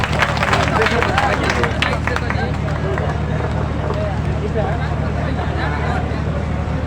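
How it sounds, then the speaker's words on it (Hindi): A crowd at an outdoor farmers' rally in India claps to welcome a speaker, dense rapid clapping over a steady amplified hum and background babble, with voices talking throughout. "आप लोग जोरदार ताली से पहले स्वागत करें"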